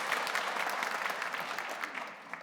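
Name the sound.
congregation applauding in welcome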